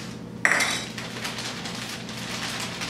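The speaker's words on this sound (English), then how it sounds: "So just measure out 1/4 of a cup of popcorn," Popcorn kernels are poured into a paper lunch bag, starting with a sudden loud rattling clatter that settles into a softer, continuing patter of kernels.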